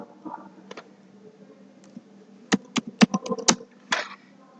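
Keys clack on a computer keyboard in short bursts of quick taps with pauses between them, close and fairly quiet in an otherwise calm room.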